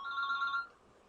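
A single short telephone ring trills for just over half a second at moderate volume, then cuts off into near silence.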